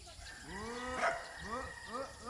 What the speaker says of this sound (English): There goes the cow.